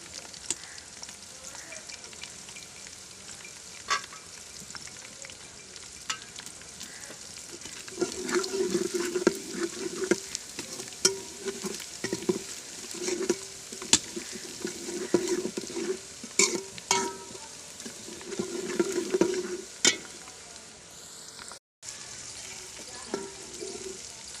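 Garlic greens fry with ginger-garlic paste in a pan for potato and pea curry, a constant crackling sizzle broken by frequent spoon scrapes and knocks as the mixture is stirred, louder in the middle stretch.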